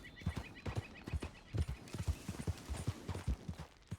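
A horse's hooves clip-clop in the Red Dead Redemption 2 video game, a steady trotting rhythm of soft thuds over a faint ambient background, with no voices.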